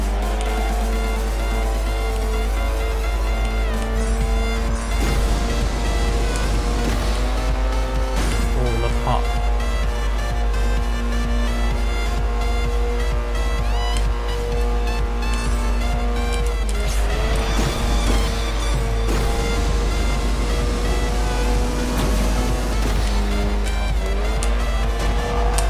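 The starter car in the racing video game Ultimate Race roars loudly and continuously, its engine pitch climbing and dropping with gear changes, with occasional tire squeals through corners.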